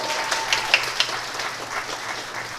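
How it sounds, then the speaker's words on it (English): Supporters applaud at a DFL political endorsement event for a county commissioner race, a steady wash of many hands clapping in a room with a few sharper individual claps standing out. "Give yourselves a round of applause."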